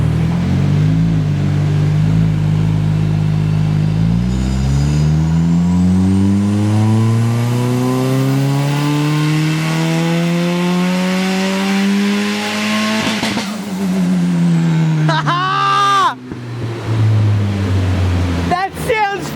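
A tuned car engine revs hard on a power run, climbing steadily in pitch for about twelve seconds, dropping back, then blipping sharply through gear changes. It is loud and close, with a few voices underneath.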